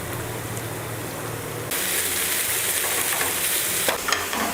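Onions and chicken pieces fry in a pan with a steady close sizzle that turns louder and brighter partway through as the pan is stirred, with a few scraping bumps near the end.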